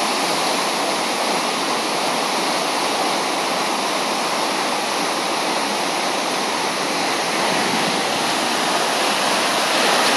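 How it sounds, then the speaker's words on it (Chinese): Steady, dense roar of Longgong Waterfall in Chiayi County, Taiwan, a continuous loud rush of cascading water with no breaks or voices. "现在这里是嘉义县龙宫瀑布"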